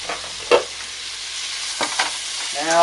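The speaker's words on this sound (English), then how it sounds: "give a little bit of a stir now and then, and turn the heat down so that it doesn't burn" Butter sizzling in a pan on the stove, stirred with a few scraping strokes over a steady crackling hiss that rises toward the end.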